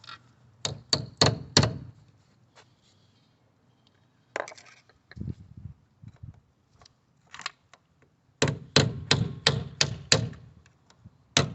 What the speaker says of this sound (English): Tap back on this cover.